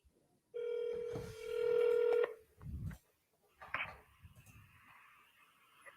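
Outgoing telephone call on a cold-calling line, with dial tones followed by a ringback tone, then a short burst of noise and another long tone, all clear and close with brief gaps of silence.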